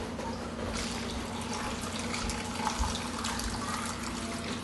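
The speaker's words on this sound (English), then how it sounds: "Now I'm going to just take my brine water and pour it right on." Brine water is poured into a jar of dill pickles, a steady splashing and trickling fill heard close and continuous throughout.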